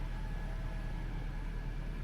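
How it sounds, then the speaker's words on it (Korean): A Hyundai Santa Fe Hybrid engine starting up on its own to charge the battery in an underground garage, giving a steady low rumbling hum that holds evenly throughout at a faint level, with no voices. "자, 여러분, 방금 시동이 걸렸어요. 소음 들리시죠?"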